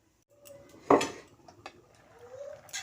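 A metal lid is set onto a cooking pot of simmering dal with chingri, one clear clanking knock followed by a few lighter rattles and clinks, close and otherwise quiet.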